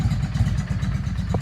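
A Yamaha V Star 650 motorcycle engine idles steadily off choke nearby, a low, even putter with light mechanical clatter.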